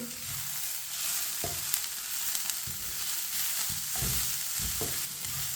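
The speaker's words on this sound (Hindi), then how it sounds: "चिकन को भी मैंने मिक्स कर लिया है।" Boiled chicken pieces fry in a pan for Chinese kebabs, a continuous moderate sizzle broken by repeated scraping stirs at irregular intervals, with no voices.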